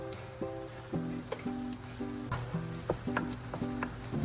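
Green chillies and curry leaves sizzling in hot oil in a pan for a prawn roast, a quiet crackling fry under a steady repeating mechanical hum and clicking, close and fairly faint.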